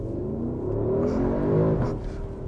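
A Porsche Cayenne Turbo S E-Hybrid Coupe accelerates hard with a loud, rising engine roar heard from inside, building and then easing slightly across a couple of seconds.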